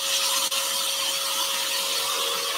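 A scroll saw trims a section of a wooden compound-cut candle, giving off a continuous close buzzing whine with a steady tonal hum and constant broadband rasp that never pauses.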